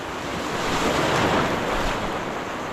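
Ocean waves break on the west coast shore near Puerto Princesa during shore casting, a loud rushing surf wash swelling and fading, mixed with wind noise on the microphone.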